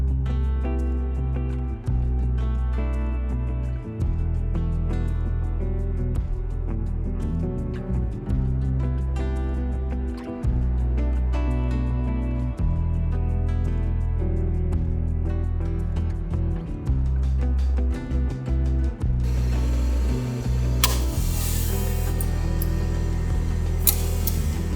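A Creality 3D printer prints a plastic trim piece with its supports, filling the space with a continuous close whine of stepper motors that shifts between tones and pauses, plus faint ticks and a brief hiss near the end.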